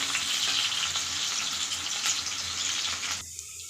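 Sliced onion sizzling in hot oil with cumin seeds for an Odisha-style bitter gourd and potato stir-fry, a steady close frying hiss that carries on evenly and then drops away near the end, with no voices.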